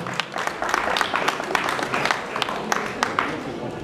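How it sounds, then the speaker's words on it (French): Audience applause fills the room at a live hypnosis stage show, a dense, steady wash of many hands clapping with occasional sharper claps standing out, continuing throughout at moderate loudness. "Mais on peut les applaudir, effectivement."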